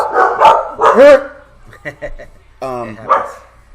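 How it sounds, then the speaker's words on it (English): Dogs barking nearby, a few sharp barks and yips in quick bursts, with pauses between them. "about the noise, guys. Yeah, it's just the dogs."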